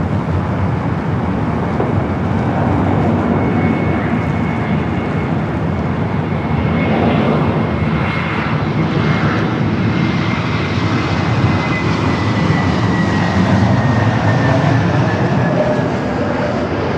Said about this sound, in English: That was a United A321 Neo about to touch down at 24 right